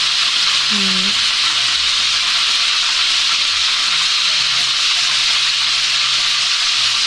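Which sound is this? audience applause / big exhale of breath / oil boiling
oil boiling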